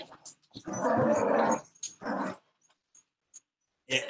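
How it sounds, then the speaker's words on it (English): Several dogs growl and whine close around someone's feet near dinner time, with a long rough growl, then shorter bursts and high whimpers, loud and close with no talking. "I've got dogs going nuts around my feet again because it's almost dinner time"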